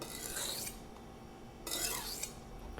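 A kitchen knife sliding across a sharpening stone at a shallow angle, two separate bursts of gritty scraping strokes with a quiet pause between them, close and fairly soft.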